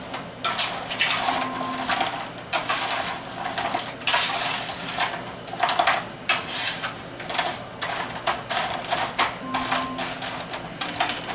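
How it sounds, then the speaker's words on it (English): Croutons scraped and flipped over in a hot pan, giving a busy run of close metallic clatters and scrapes of the pan and utensil, with irregular louder knocks throughout. "They're still sticking in the pan a little bit. We're going to flip them all over."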